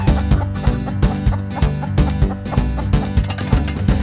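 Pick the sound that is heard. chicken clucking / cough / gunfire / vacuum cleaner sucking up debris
chicken clucking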